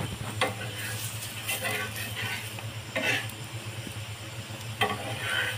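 A laccha paratha fries in refined oil on a hot pan, giving a soft continuous sizzle with a few light utensil clicks and taps over a low steady hum, no talking.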